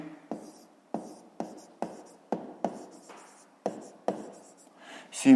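A pen writing on paper, about ten separate scratchy strokes in an irregular rhythm, close and quiet, with a brief louder sound at the very end.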